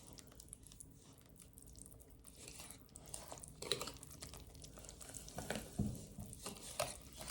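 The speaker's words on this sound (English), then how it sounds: "Just breaking up those yolks first." Egg yolks whisked in a bowl for brownie batter made with freshly milled flour: quiet, irregular scraping and light clinks of a whisk against the bowl, building slightly in the second half, with no talking.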